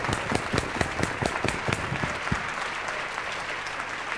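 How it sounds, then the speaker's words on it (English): An audience at an awards ceremony breaks into steady applause, many hands clapping in a dense, moderately loud patter that holds evenly before thinning slightly toward the end. "give them all a round of applause"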